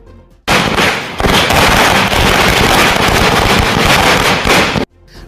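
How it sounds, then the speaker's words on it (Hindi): Fireworks bursting at an election victory celebration in India, a dense, loud barrage of rapid crackling bangs lasting several seconds before stopping abruptly, with no voices. "आतिशबाजी का शोर है।"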